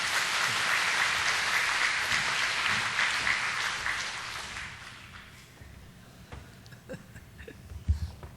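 A church congregation claps to welcome a speaker forward, with dense applause that carries for about five seconds and then thins to scattered claps and faint footsteps.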